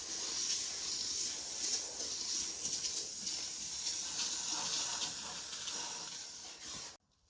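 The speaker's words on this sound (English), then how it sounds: "Now a quick steam here keeps everything fresh and hygienic." A steam cleaner blasts a toilet with a steady, close hiss of steam that holds for several seconds with slight wavering, then cuts off abruptly near the end.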